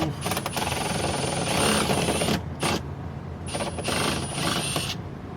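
A power driver fitted with a Phillips bit backs screws out of the mounting of a Norcold 1200 RV 12V DC refrigerator, a steady loud mechanical whir and ratcheting broken by two short pauses, close up with no talking.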